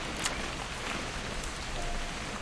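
Steady rain falls throughout a scene in the video game What Remains of Edith Finch, a constant soft hiss with faint droplet patter and no voices.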